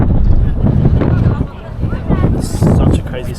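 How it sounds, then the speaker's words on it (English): Strong wind buffets the microphone atop the Empire State Building on a snowy Christmas Day in New York, a loud, continuous low rumble with gusts, while a person talks over it. "So windy up here."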